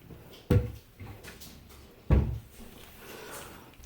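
A kitchen drawer crammed with items slides and bumps twice, each a sharp close knock followed by a softer rattle, with quieter rustling in between.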